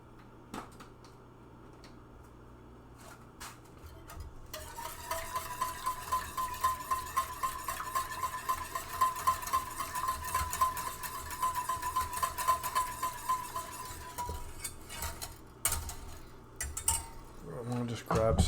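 A milk mixture for lobster mac and cheese is stirred in a pan, a steady run of rhythmic scraping and clinking strokes through the middle of the clip, with faint sizzling beneath and some talking nearby.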